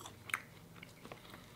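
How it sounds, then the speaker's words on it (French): Chewing on a homemade ketchup burger, with soft mouth sounds and one brief crunchy bite near the start, close and quiet, with no talking. "Alors, goûtons leur ketchup maison."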